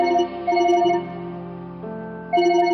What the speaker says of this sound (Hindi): ये देखो आपकी नानी माँ का ही फोन है।